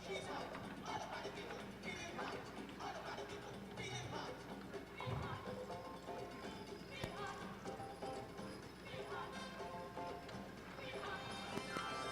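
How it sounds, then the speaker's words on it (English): Hooves of horses pulling single carts at a horse show clip-clop steadily in a rhythmic trot along the rail across the whole stretch, with an announcer's voice echoing over a busy arena. "Trot your horses, please, on the rail at the trot."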